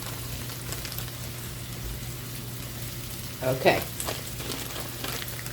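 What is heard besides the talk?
fatback grease sizzling on a Blackstone griddle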